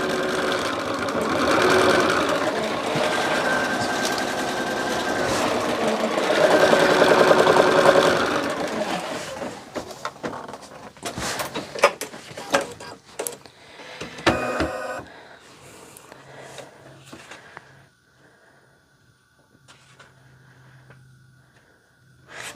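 An embroidery machine stitching a heart line on a lumbar pillow, a fast mechanical needle rattle for about nine seconds, then broken clicks and knocks before the motor fades to a quiet hum.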